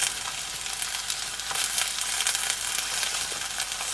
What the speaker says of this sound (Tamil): இப்போ அதே பேனில் தக்காளி போட்டுடலாம்.